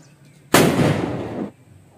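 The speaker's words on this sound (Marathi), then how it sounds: "तर बघा आता बॉम्ब लावून सुरुवात करतोय." A firecracker bomb goes off to open a Ganesh immersion procession in a Konkan village, a single loud, close, broadband blast that roars for about a second before cutting off into quiet.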